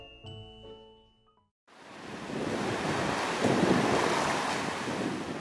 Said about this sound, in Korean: 다음 날 바람과 파도가 잔잔해질 줄 모르더니 급기야 풍랑주의보까지 내렸습니다.